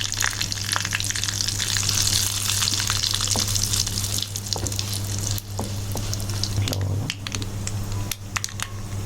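A tempering of curry leaves and a pinch of asafoetida sizzles in hot oil in a pan, a loud, continuous crackling hiss with occasional pops and scrapes, no voices.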